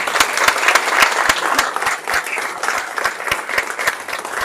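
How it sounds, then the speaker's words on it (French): Applause from the audience at a French press conference for the Choc des étoiles 2023 event, dense steady clapping with sharp individual claps standing out, loud and close, lasting several seconds without speech. "On peut l'applaudir."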